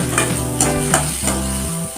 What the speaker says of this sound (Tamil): நல்லா வதக்கிக்கோங்க ரோஸ் ஆகிற வரைக்கும்.